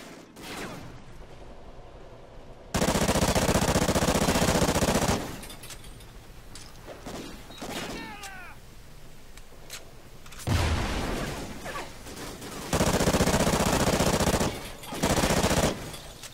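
Machine gun fire in the Call of Duty Ghosts video game comes in several loud sustained bursts separated by quieter game noise, with scattered single shots in between.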